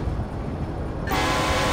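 A train rushes by in Grand Theft Auto V, its loud rumbling roar swelling abruptly about halfway through into a bright, harsh wash of rail noise, close and continuous with no voices.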